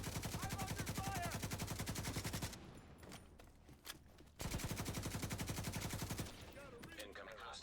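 Rapid automatic gunfire in The Division, sustained bursts of dense, evenly spaced shots that cut off briefly, leaving quieter game ambience, then resume for several more seconds before stopping.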